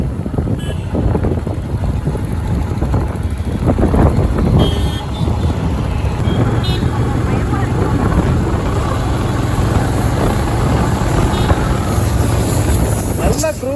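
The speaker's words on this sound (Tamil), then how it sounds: "நல்லா க்ரூஸ் ஆகுதுங்க வண்டி" A new motorbike cruises smoothly along a road in third gear, its steady engine drone close by and mixed with constant wind buffeting across the microphone, with a few brief horn-like toots.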